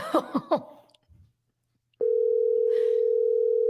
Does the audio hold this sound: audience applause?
no